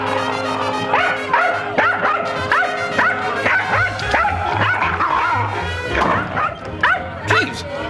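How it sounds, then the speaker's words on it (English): A dog named Rollo barks repeatedly behind a door, in quick yapping bursts mixed with whimpers, heard over steady music playing in the room. "There's a dog in there."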